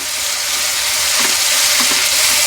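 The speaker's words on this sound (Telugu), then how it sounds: "దీంట్లోనే కొత్తిమీర పుదీనా అన్నీ ఆయిల్లోనే వేసుకోవాలి మనము" Coriander and mint fry in hot oil while making keema, a loud dense continuous sizzle close up, with a few faint stirring knocks and no talk.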